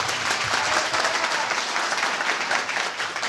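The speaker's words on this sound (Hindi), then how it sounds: "ताली बजाइए प्रभु के लिए जोर से।" A congregation claps loudly in dense, continuous applause that fills the space without a break.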